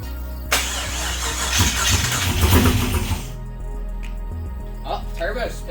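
Buggie Blazer engine cranks and catches with a loud burst, runs roughly for a few seconds, then stumbles and dies, leaving quiet with faint voices talking nearby.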